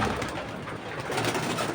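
Racing pigeons coo steadily amid a dense flock in a loft, with overlapping calls and fluttering forming a continuous, fairly loud bed of bird sound and no talk.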